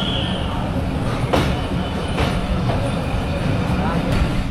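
Rohanpur (Rajshahi) Commuter, train number 57, running along the line, a steady broad rumble of wagons with a few sharp rail clacks at intervals, close and continuous.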